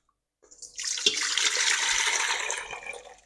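Boiled water poured out of glass jars of pickling cucumbers under a lid, a continuous splashing gush that builds quickly, runs steadily for a few seconds and trails off, close and fairly loud.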